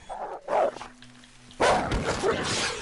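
A dog in Red Dead Redemption 2 barks twice in short bursts at close range, with a louder, longer run of barking and whimpering after a brief pause.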